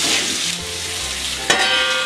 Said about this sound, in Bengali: দিয়ে আমি নাড়াচাড়া দিয়ে আমি 1 মিনিটের জন্য ঢাকা দিয়ে রাখবো।